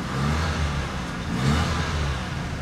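A car engine in very good, low-mileage condition idles steadily and loudly up close, with a slight swell partway through, and no one speaking.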